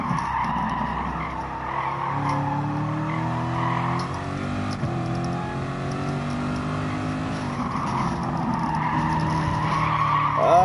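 A race car at Laguna Seca braking and skidding, with a long, loud tire squeal and scrub over a droning engine that holds for about ten seconds and swells toward the end.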